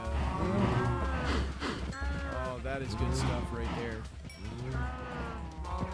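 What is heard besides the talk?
cattle mooing in a farming video game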